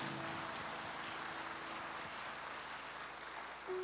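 Applause from a church congregation during a Sunday service, a steady dense clapping that fills the room at moderate level with no voices over it.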